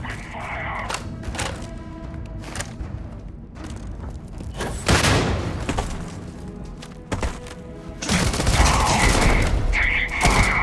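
Gunfire breaks out in the space RPG Starfield, with bursts of shots, heavy thuds and booms hitting close and loud, swelling into dense volleys near the end.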